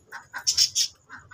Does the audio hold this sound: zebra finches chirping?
yes